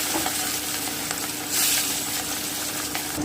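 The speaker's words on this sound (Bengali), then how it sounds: "আমি মাছগুলো দিয়ে দিচ্ছি আমি কিন্তু খুব হালকা করে ভাজবো" Hilsa fish fry gently in hot oil in a pan with a dense, continuous sizzle, close and fairly loud, swelling briefly midway, with no talking.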